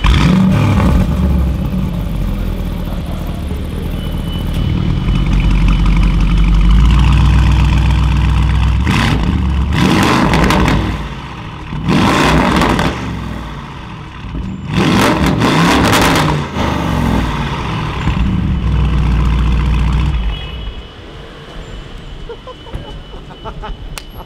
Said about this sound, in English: just start her up so you guys can hear the super spin exhaust